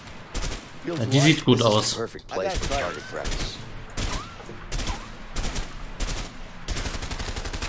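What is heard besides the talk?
gunfire from a weapon in the video game A Way Out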